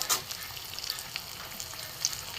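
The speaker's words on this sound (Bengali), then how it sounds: "লাল লাল করে ভেজে নেবো।" Potol chops frying in hot oil give a soft, continuous sizzle with faint crackles and pops, heard alone and fairly quiet.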